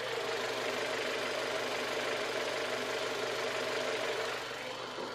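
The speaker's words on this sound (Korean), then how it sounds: "이 차량 이제 바로 엔진 수리 한번 들려드릴게요" A 2019 imported gasoline SUV engine with four-wheel drive and about 60,000 km runs at a smooth, steady idle, a continuous close hum that eases slightly near the end.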